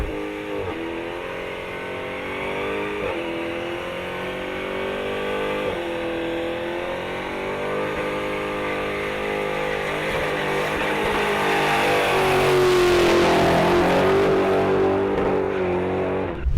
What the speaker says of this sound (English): Every press of the throttle feels like detonating controlled chaos, and the Demon delivers it with surgical brutality